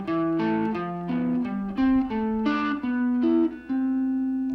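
Guitar running up a major scale in diatonic fourths, clean plucked notes in a steady stepping rhythm, each pair of tones climbing higher, played alone and close with no talking.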